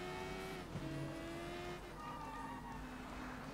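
A car accelerating in the Sleeping Dogs video game during a street race, its engine holding a loud, steady drone whose pitch climbs and shifts through gear changes, with no talking.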